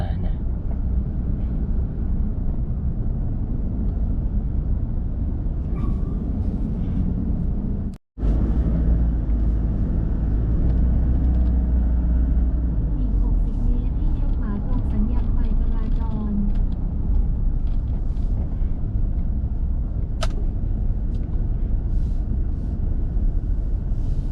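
Pickup truck driving along a Bangkok road near Vibhavadi Rangsit and Phahonyothin, a steady loud low road rumble and engine drone from inside the cab throughout, with a short break partway.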